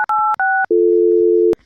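A telephone sounds a few short, loud electronic beeps in quick succession, then a longer steady tone that cuts off abruptly, clear and alone.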